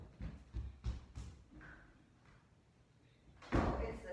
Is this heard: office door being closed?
yes